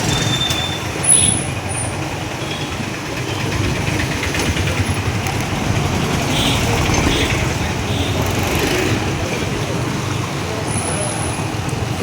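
Heavy roadway traffic on a busy pre-Christmas day, with engines of buses, trucks and cars idling and rumbling close by in a steady broadband roar and occasional brake hiss, continuous for the whole stretch.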